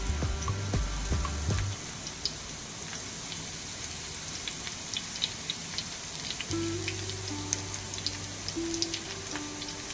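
Faint, steady sizzling and spattering of garlic frying in oil on a flat pan, with scattered tiny pops and a low hum in the background.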